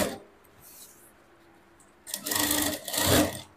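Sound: sewing machine stitching hoop skirt petticoat

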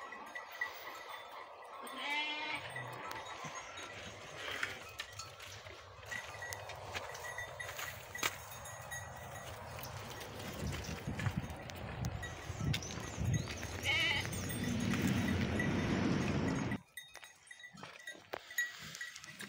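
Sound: sheep and newborn lamb bleating

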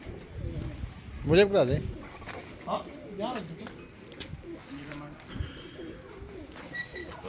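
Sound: breeder pigeons cooing on a rooftop

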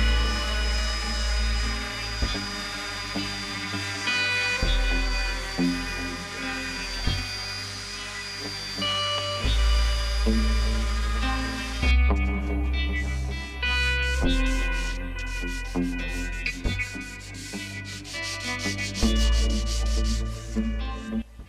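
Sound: sanding wooden entryway hook board

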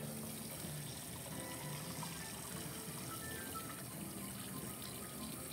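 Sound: cold tap water running over cooked pasta

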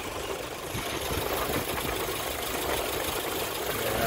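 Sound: 1996 Geo Tracker engine idling with belt running

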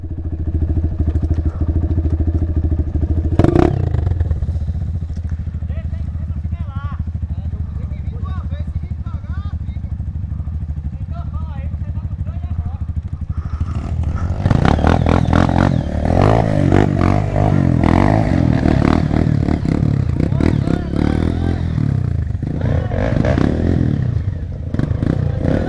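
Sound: motorcycle riding through mud

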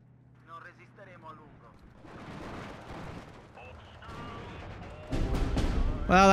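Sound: gunfire and artillery in Steel Division 2 video game

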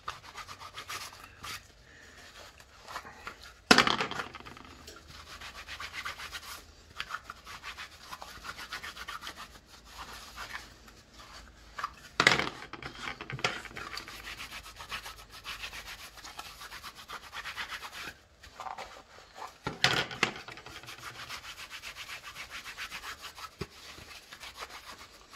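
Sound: polishing gun holsters with rim oil and a microfiber cloth

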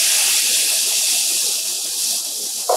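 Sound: vegan tempeh bacon sizzling crisp in a pan

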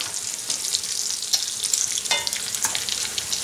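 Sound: battered packrat frying in oil

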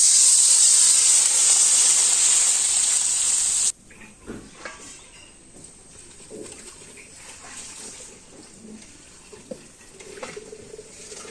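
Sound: water added to potatoes cooking in a hot pan

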